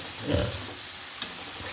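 Onions sauté in sesame oil in a pan, giving a soft, steady sizzle with a brief stirring scrape near the start and another clack later. There is no talking.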